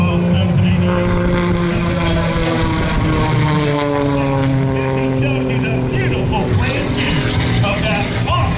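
A CAP 232 aerobatic airplane at an airshow roars overhead, its propeller engine droning with shifting pitch sweeps as it maneuvers, loud and continuous throughout.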